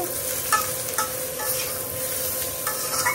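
Vegetables (potato and eggplant) frying with salt in a pan, a steady close sizzle with soft scraping stirs at intervals.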